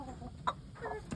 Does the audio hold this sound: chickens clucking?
yes